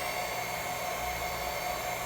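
Hair dryer drawing about 670 watts from a 1200-watt PowerJack modified sine wave inverter, running as a steady, close whooshing hiss with a faint constant electrical hum underneath.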